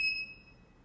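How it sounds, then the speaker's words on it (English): A single short electronic beep from an 8x8 HD matrix switch, high and clear, sounds at the start and fades quickly into quiet room tone. "So we can hear the beep sound"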